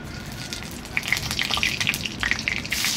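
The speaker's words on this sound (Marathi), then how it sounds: "मस्त कांदा भाजून घ्यायचा आपल्याला आता लाल कलर येतो." Chopped onion frying in oil with cumin, a pinch of asafoetida and seven or eight curry leaves. A close, lively crackle and spitting runs throughout, with bright pops scattered over a steady hiss.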